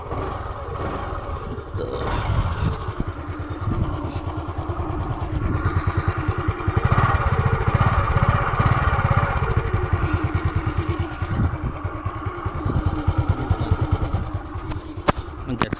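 A Yamaha Rayz scooter, eight years old, fires up on a single kick and settles into a steady, close idle, its low engine putter continuing throughout with a faint voice in the background.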